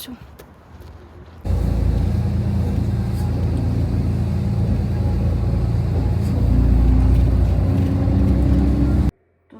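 Steady road rumble and engine drone from inside a moving car on the way home, starting abruptly after a quiet moment and running evenly before cutting off.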